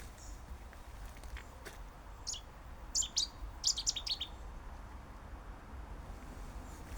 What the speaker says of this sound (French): C'est bien, on est accueilli par un oiseau.